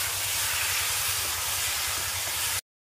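Water poured into a pan of bottle gourd and potato cooking in a ground cumin, coriander and chilli paste sets off a loud, steady steam hiss that runs nearly three seconds, then cuts out abruptly.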